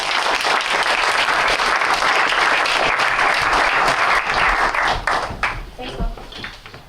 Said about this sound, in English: Round of applause for Juliet.